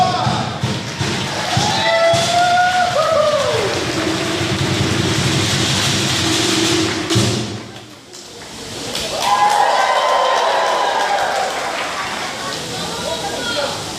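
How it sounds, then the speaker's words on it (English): Loud crowd applause and cheering at a Samoan fire knife dance performance, a dense roar with shouts and whoops over it, dipping briefly before surging again, with a voice speaking over the noise. "everyone please make a big round of applause for our far-back dancer from Samoa"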